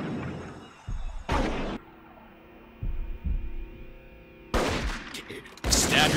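Bursts of heavy gunfire from the anime Cowboy Bebop crack out in several loud volleys, separated by quieter stretches of low hum and a few dull thuds.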